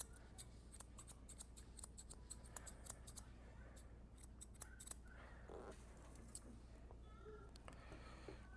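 Small grooming scissors snip rapidly at the fur on a Cavalier King Charles Spaniel's foot, a run of crisp, close clicks in quick clusters with brief pauses, over a low steady hum and faint shuffling.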